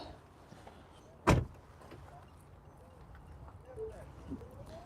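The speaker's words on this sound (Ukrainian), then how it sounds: "Двері зачиняються ось так." A single solid thud of a Tesla Model X door shutting, close by, followed by quiet background noise and faint distant sounds.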